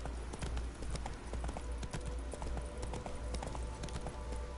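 Roach, a horse in the video game Witcher 3, trots with steady, fairly close clip-clopping hooves over a continuous outdoor ambience.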